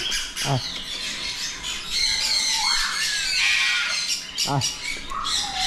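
A large bird squawks loudly in a couple of harsh bursts close by, with bright chirping calls throughout and people talking over it.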